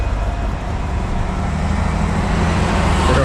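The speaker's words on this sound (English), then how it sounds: "So many buses." Steady roar of city traffic and buses rolling past in Anaheim, a continuous loud wash of engine and road noise with no clear pauses.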